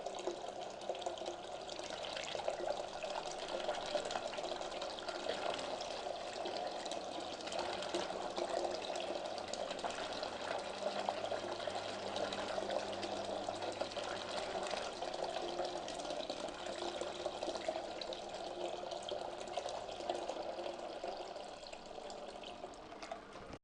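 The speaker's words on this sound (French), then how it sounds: "Ça devait arriver, j'ai foutu de l'eau partout." Water splashing and running steadily during a homemade sine-wave inverter build, a faint continuous watery hiss with no clear breaks.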